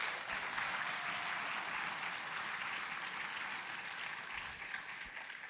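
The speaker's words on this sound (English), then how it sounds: "A huge round of applause for them." Audience applause at a high school fall band concert, a broad steady wash of clapping that tapers slightly toward the end, with no voices over it.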